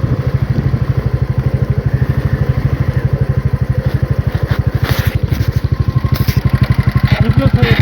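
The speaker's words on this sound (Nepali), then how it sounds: "मोटरसाइकल ठेलम ठेल हुँदैछ।" Motorcycles crawl through dense, jostling evening traffic on a slippery road, a loud, close engine putter with a steady pulsing rhythm and some clattering on top.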